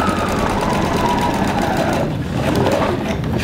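A sewing machine runs a steady, close mechanical whir while stitching a fabric tote bag. It pauses briefly just past the two-second mark, then starts stitching again.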